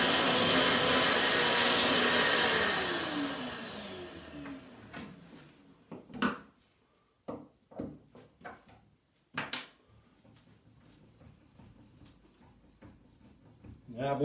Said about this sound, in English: Let's try to get it out with a vacuum.